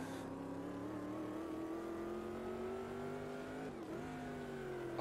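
Corvette C3 engine in the racing sim Automobilista 2, a sustained loud rev climbing gradually in pitch under heavy throttle, dipping briefly near the end before pulling again, with no talk.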